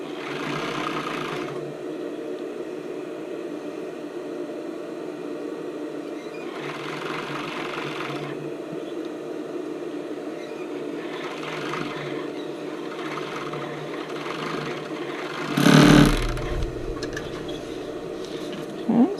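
An overlock sewing machine stitching fabric seams in bursts, a close rapid mechanical whirr that starts and stops several times, ending with a brief clunk.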